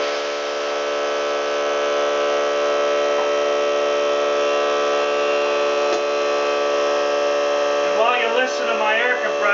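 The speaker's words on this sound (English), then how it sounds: "Listen to my air compressor run." An air compressor runs with a loud, steady, droning hum throughout, and a voice starts talking over it near the end.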